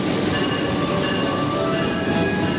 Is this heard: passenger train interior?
yes